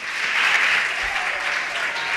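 An audience at a school event claps for the younger pupils, producing a dense, steady burst of applause that holds at an even level throughout.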